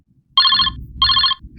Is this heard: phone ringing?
yes